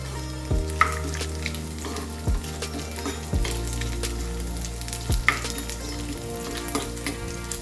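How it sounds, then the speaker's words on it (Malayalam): Coconut pieces fry steadily in hot ghee for payasam, a continuous close sizzle broken by a few sharp clinks and scrapes of a stirring spoon against the pan. "തേങ്ങ നല്ല ബ്രൗൺ ആവണ വരെ മൂപ്പിച്ചെടുക്കണം"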